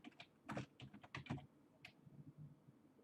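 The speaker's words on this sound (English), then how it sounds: "I'm not very good at typing, am I?" Keys tapped on a computer keyboard in uneven bursts, a quick cluster of clicks followed by a few scattered strokes, close and fairly quiet with no talking.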